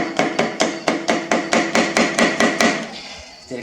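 A hammer taps an engine cylinder liner back down during a John Deere 5065E tractor engine rebuild, about a dozen steady, evenly spaced metallic blows, close and loud, slowing and fading near the end with one last light tap.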